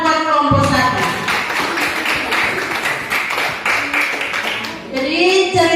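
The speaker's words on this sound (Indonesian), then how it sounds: "tepuk tangan buat kelompok 1" Students in a classroom clap for a group after its presentation, a steady burst of many hands clapping with voices speaking before and after it.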